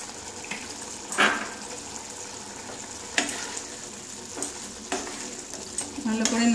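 A spoon stirs a Bengali fish roe fritter curry (macher dimer borar dalna) simmering in a pan. The sizzle stays soft and steady, broken by sharp scraping strokes at irregular intervals, and there is no talk.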